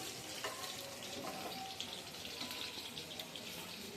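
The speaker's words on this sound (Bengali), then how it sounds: "আবার আমার মামনি এটাকে সুন্দর করে ভাজি করতেছে।" Vegetable bhaji frying in a pan gives a faint, steady sizzle with small crackles and clinks, quiet and continuous in a home kitchen.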